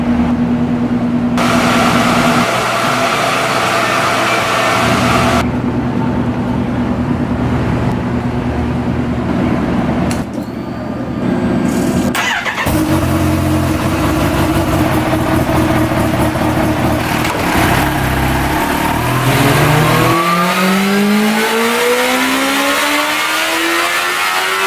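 A stock-exhaust Kawasaki Ninja H2 with an ECU flash runs on a dyno, loud and close, with idle, blips and sharp revs, then a long wide-open pull whose pitch climbs steadily toward the end.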